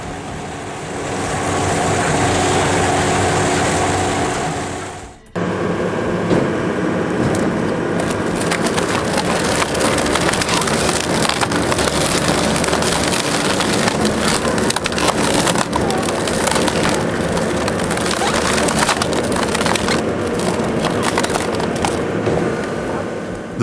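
Industrial shredder with slow rotating rotors splitting wood along the grain: a loud, continuous grinding roar with dense cracking and crunching, preceded by a steady machine drone that cuts off abruptly.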